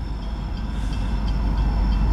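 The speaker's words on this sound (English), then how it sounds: "Luckily, we got some train action. Escanaba Lake Superior Railroad." An Escanaba Lake Superior Railroad train passing, heard as a loud, steady low rumble of rolling wagons with faint high ringing tones, building slightly over the couple of seconds.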